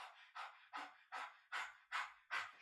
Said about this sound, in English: we're going to breathe across the tongue with a panting breath from the upper chest.